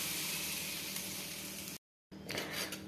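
Oil sizzles on a heated dosa griddle before barley-rice uttapam batter goes on, a steady broadband hiss that breaks off briefly, then resumes with crackling bursts.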